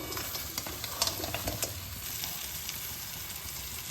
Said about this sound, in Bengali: এবার আমি ভেজে রাখা কাঁকড়াগুলো এর মধ্যে দিয়ে কষিয়ে নেব।